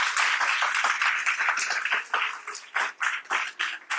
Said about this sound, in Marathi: आपण आज एकदा दोनदा जोरदार टाळ्या ह्या स्पिरिटला देऊ.